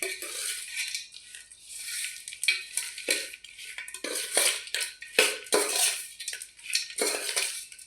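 Puffed rice churumuri being tossed and mixed in a bowl, with a steady run of scraping, clinking and rustling strokes close up and no talking.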